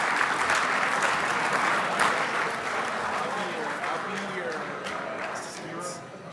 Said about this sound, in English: another big round of applause for those youngsters coming out to their 2023 IFMAR World Championships